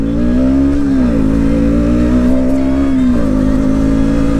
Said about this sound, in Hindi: Right now KTM is in first gear and here we go on the चढ़ाई।